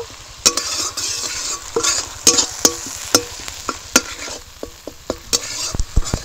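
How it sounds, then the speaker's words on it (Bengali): Turmeric and Kashmiri chilli powder fry in a pan while a spoon stirs and scrapes, giving a steady sizzle broken by sharp, irregular clinks of metal on metal. "একটু হলুদের গুঁড়ো দিয়ে দেবো, একটু কাশ্মীরি লঙ্কার গুঁড়ো দিয়ে দিলাম। মশলাটা একটু ভেজে নেব।"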